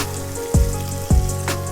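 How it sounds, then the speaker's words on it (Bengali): Chicken pieces lightly frying in a hot kadai for an Afghani chicken gravy, a steady close sizzle broken by two soft thuds of the pieces being moved. "এইভাবে হালকা ফ্রাই করে নিয়ে চিকেনটাকে আমরা তুলে নেব।"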